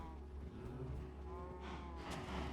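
A Minecraft cow lets out a low droning moo during a livestream, faint and sustained under steady background game sounds, with no talking.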